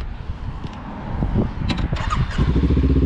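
A Honda CB500-series trail motorcycle cranks and fires up, its engine catching after a brief starter whir and settling into a rising, close idle rumble.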